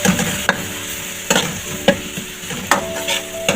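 Ginger garlic paste being stirred into frying onions in a pan while making chicken biryani: steady sizzling with rhythmic scraping strokes of the spoon about every half second to second, close and fairly loud.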